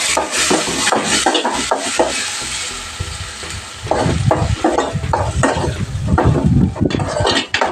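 A spoon scrapes and stirs through thick onion paste in a pan for chickpea gravy, with a gentle sizzle underneath and rhythmic scraping strokes.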